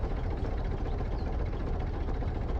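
A modded truck engine in Farming Simulator 22 gives a continuous, deep, rumbling idle with a throaty vibration, heard alone.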